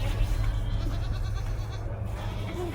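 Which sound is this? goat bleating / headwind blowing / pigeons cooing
goat bleating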